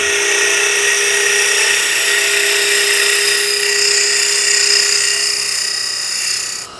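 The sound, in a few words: drilling into wood on lathe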